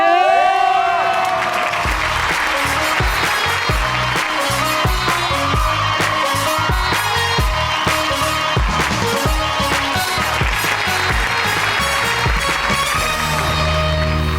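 A television studio audience breaks into loud, sustained applause and cheering to welcome a guest onto a Pakistani talk show stage, dense clapping close and continuous, with music playing underneath.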